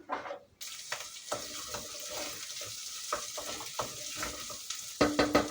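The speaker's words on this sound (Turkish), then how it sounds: "Kıymam biraz daha kavrulsun." Ground meat browns in a pan in a village house kitchen, sizzling steadily while a utensil stirs and scrapes through it in repeated strokes, with a brighter clatter near the end.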